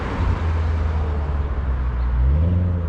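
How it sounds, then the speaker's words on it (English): Car traffic rolling past on a nearby road, a steady low engine drone with a rising whoosh as one vehicle passes close near the end, no voices. "People zooming around with their cars here."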